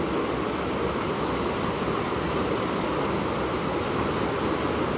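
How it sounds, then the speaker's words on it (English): Water hits rocks outdoors, giving a steady, dense wash of surf-like noise that stays loud and unbroken, with no voices. "look at the way like water hits rocks and how it creates the sounds that I'm listening to right now."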